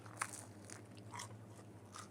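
A few crisp crunchy bites into pizza crust, close and quiet, followed by soft chewing.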